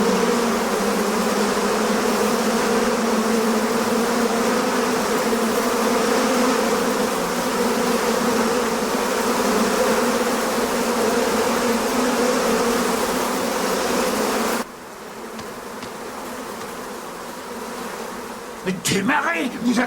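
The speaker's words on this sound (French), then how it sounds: "Qu'est-ce que c'est que ces mouches?" A dense swarm of flies on an island in a dubbed horror film, a loud, steady, close buzzing drone that holds for long stretches before dropping to a thinner hum.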